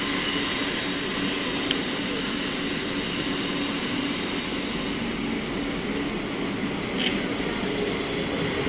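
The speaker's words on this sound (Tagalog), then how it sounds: "Meron pa isang train parating sa kabilang side." A train pulls into a station platform near Cologne Cathedral in Germany, a broad steady rumble and rolling hum with faint high squeal, fairly loud and constant throughout without speech.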